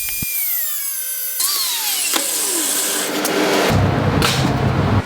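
A power tool cuts through the old steel headlight bracket from a Honda CB500F, at the section holding small rubber grommets. Harsh grinding and rasping with whining pitch sweeps surges in and out over five seconds, close and loud, with no talking.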